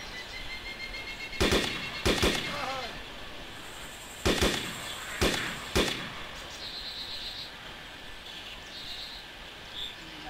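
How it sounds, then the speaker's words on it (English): Gunfire in a zombie survival video game rings out as sharp bursts of shots in several clusters against a quiet background. "You hear the gunshots?"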